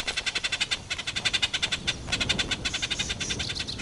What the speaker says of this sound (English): The bird leads the honey badger to bees' nests by calling for it to follow.